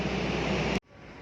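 Inside the Jayabaya economy passenger train riding from Malang toward Surabaya, a loud steady roar of rushing noise cuts off abruptly, then a quieter, muffled rumble continues.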